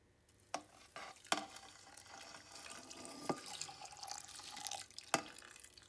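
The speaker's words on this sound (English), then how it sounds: "So I'm just gonna pour it in here." Liquid yeast starter mixed with nutrient is poured into Cabernet Sauvignon grape must to begin home wine fermentation, giving a continuous close trickle and splash with a few sharp knocks and clinks.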